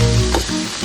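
Onion and garlic sautéing in a pan give off a short, loud, close sizzle with a brief stirring scrape, with no talking.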